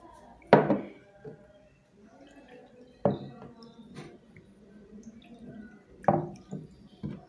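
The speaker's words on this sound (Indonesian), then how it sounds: "kita tuang masing-masing wadah kecil airnya" Water poured into small containers during a school lab on polar and nonpolar compounds, heard as three brief splashing, dripping bursts a few seconds apart with quieter trickles between.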